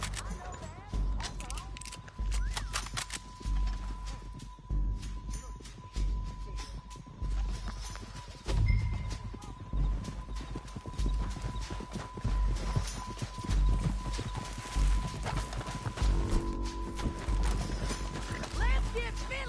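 Rhythmic hoofbeats clatter steadily as horses gallop in Red Dead Redemption 2, with mechanical clanks and a faint whinny mixed in, dense and continuous.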